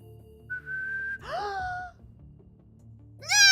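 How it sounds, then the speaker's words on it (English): A person whistles a steady clear tone, then breaks into a breathy gliding sound like a laughing gasp, and after a pause a bright excited vocal burst follows, all fairly close. "I haven't whistled in like ages"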